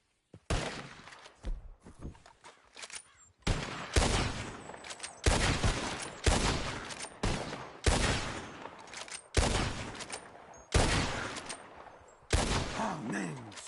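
Gunshots ring out in Red Dead Redemption 2 as players fire at flying birds. Around nine loud, separate blasts come at roughly regular intervals, each with a ringing tail, and voices are heard between them.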